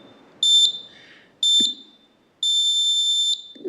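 A shrill electronic alarm held close to a microphone at a council meeting beeps loudly in three bursts, the last one held longer, with faint room noise between.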